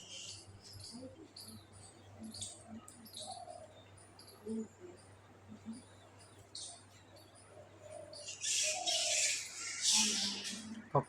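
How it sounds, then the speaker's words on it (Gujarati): Birds call among dense trees, with scattered short chirps and coos near and far, and a louder burst of bright chatter toward the end over a low background hum. "પક્ષીઓ બોલવાનો અવાજ આવે છે"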